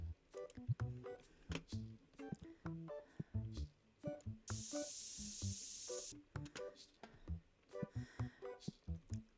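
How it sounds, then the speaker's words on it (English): A spray can hisses steadily for roughly a second and a half, aimed at an annoying insect, loud and close amid surrounding clicks and handling noises. "Let me go spray this guy because he's annoying me."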